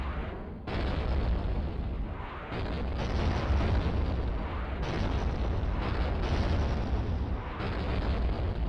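Cities blown apart in the Arcade Classics PS2 game: a string of loud, sustained explosion bursts, several distinct blasts separated by brief dips, dense and booming with no talk.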